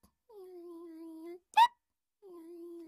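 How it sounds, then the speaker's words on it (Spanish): A cartoon character in the anime Chibi Maruko Chan gives a single sharp hiccup. It falls between sustained humming voice tones, comes across clean and close, and is very brief. "Tengo que hacer algo para que se le pase el hipo."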